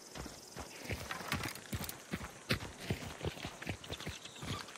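Rapid clip-clop of horse hooves galloping steadily over ground in Hunt: Showdown 1896, fairly close, with a brief whinny-like burst midway and busy game background noise.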